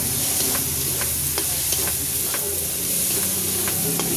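Raw tomato sizzles and spits in a hot pan while a utensil scrapes and stirs it in repeated short strokes, close and loud, with no voices.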